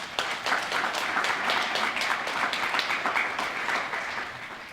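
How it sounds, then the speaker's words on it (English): An awards ceremony audience gives itself a sustained round of applause, a dense, even wash of many hands clapping that holds steady and eases slightly toward the end. "Give yourselves a round of applause."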